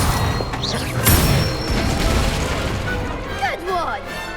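Spell effects from Hogwarts Legacy crackle and burst through the clip, with a heavy boom near the one-second mark and bright whooshing flourishes toward the end, while dialogue continues over the magic.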